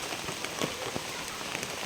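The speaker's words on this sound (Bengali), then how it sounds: "চারিদিকে বৃষ্টি, দেখুন আমাদের বাড়ি বর্ষণের কারণে বাড়িতে পানি উঠে গেছে" Heavy rain pours steadily over a flooded village, a dense close hiss of drops striking surfaces with scattered louder splats and no voices.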